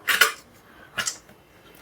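A pressure cooker set down on a home kitchen stove while making a chana dal and cabbage curry, heard as two sharp metallic clanks close together, then a softer clatter, and a final knock at the end, with no talk.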